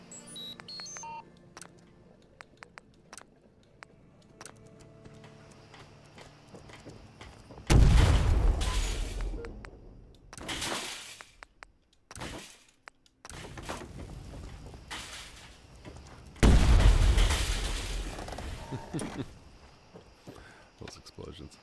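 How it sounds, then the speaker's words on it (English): Two heavy booming video game explosions in Sim Settlements 2 with deep low rumble, each lasting a couple of seconds, separated by quieter stretches of mixed sound and brief noisy bursts. "Those explosions."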